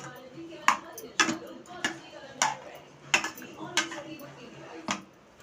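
A spoon scrapes and knocks against a pan while vegetable kurma is stirred, about eight separate sharp metallic clinks spread at an uneven pace, close and clear over a quiet background.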